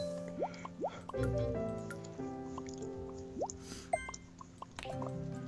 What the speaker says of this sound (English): Don't forget to run that water.